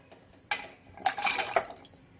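A metal cooking pot of water clatters as ash gourd pieces are moved into it for a quick boil, giving two bursts of clinking and scraping close by with no talk.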